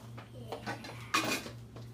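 Zucchini ravioli filling being mixed in a bowl, with a few soft scrapes and clinks of a utensil against the dish. Faint and close, followed by one sharper clatter, with a low background hum throughout.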